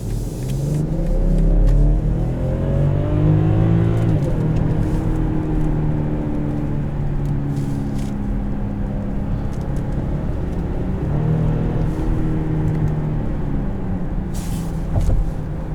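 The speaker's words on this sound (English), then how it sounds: "plenty of power out of this Turbo 6, and it does sound good doing it." A 2022 BMW X5 xDrive40i in sport transmission mode revs up strongly through rising gears, a deep smooth turbocharged inline-six growl that builds, shifts and pulls again, loud and close throughout.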